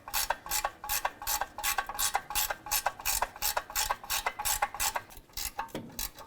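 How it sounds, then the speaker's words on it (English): A ratchet snugs transmission mount bolts on a 2004-2009 Dodge Durango, a fast run of sharp, close clicking strokes in quick bursts, repeating steadily with brief pauses. "Let's go ahead and snug up these bolts"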